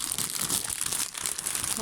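Plastic wrapping on a reborn doll kit box being torn open by hand, a continuous close-up crinkling and crackling with small tearing bursts, loud and steady with no talking.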